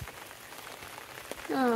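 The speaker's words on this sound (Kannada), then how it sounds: "ಮಳೆ ಬರ್ತಾ ಇದೆ, ಒಂದು ಕಡೆ ಛತ್ರಿ ಹಿಡ್ಕೊಂಡಿದ್ದೀನಿ" Rain falling on an umbrella and the ground around it, a close, steady patter with a brief tonal whine rising at the very end.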